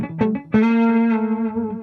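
An electric guitar played through a ToneX tape delay effect rings out with a short plucked note, then a sustained distorted tone with faint repeating echoes trailing off.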